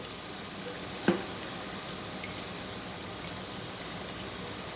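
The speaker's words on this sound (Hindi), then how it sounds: "जब पानी बॉईल हो रहा है, हमारा पानी काफ़ी गर्म हो चुका है।" Salted water coming to a boil in a pot for Karachi biryani rice, a steady soft bubbling hiss throughout with one brief clink near the start.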